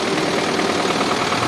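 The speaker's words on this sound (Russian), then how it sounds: "завел я свой тракторок" A DT-75 crawler tractor's diesel engine idles just after starting, a steady, loud, close mechanical rumble with a faint knocking texture and no talk.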